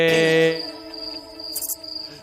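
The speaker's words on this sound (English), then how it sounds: "Listen to the crickets" Crickets chirp down by a creek bank at night, a thin, high, steady trill that carries on after a brief louder tonal sound at the start.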